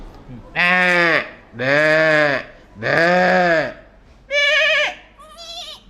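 A man imitates goat bleats, as once used to call his goats while herding them, giving four long wavering calls and a shorter fifth one, loud and close.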